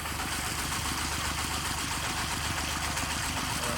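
An engine-driven water pump pumping water into a rice field across a canal, running in a loud, steady drone with a fast regular chug and broad rushing noise, close and continuous without pause.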